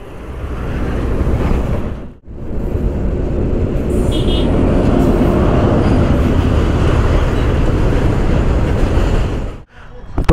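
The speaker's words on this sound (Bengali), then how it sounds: "দাঁড়া এখান থেকে ট্রেন যায়।" A train passes by a highway stop between Kolkata and Siliguri, a loud continuous roaring rush that swells and holds for several seconds before dropping away, close at hand.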